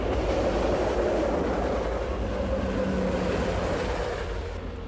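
A train rumbles past beside the Hudson River, a steady broad roar heard from the water at a fishing spot near a culvert, gradually fading toward the end.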